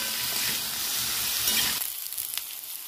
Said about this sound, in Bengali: ভালো করে নাড়িয়ে ভাজবো।